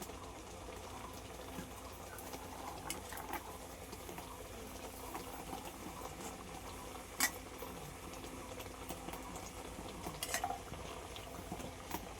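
A pot of country chicken curry with raw mango simmers on the stove, producing faint, low bubbling with a few soft clicks and occasional louder pops, heard close and quiet without speech.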